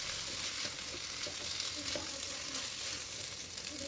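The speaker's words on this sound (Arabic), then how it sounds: "راح أحمس التمن ويا الخضروات إلى أن تطلع ريحة التمن" Rice grains and mixed vegetables sizzle as they are fried and stirred in a pot for a sour turnip soup, with a steady close crackle and soft scraping from the stirring.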